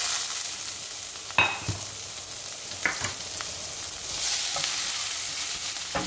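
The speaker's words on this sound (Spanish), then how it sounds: "Vamos a ponerle la cebollita a sofreír." Chopped onion sautéing in a little oil for a Mexican beef broth, a steady soft sizzle with a few stirring scrapes and clinks along the way, close and without talk.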